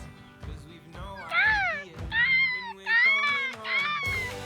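A person's voice imitates Australian night birds with a series of warbling, rising and falling whistled calls, a few short phrases in a row, moderately close.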